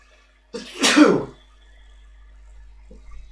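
A single loud sneeze bursts out near the start, followed by quiet room tone and a faint rustle.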